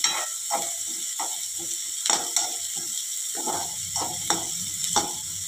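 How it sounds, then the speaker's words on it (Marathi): Chopped onion sautéing in a pan over low to medium heat until golden, a steady soft sizzle broken by repeated scraping, clicking stirs of a spatula. "कांदा आपल्याला छान असा सोनेरी रंगावर परतून घ्यायचा आहे"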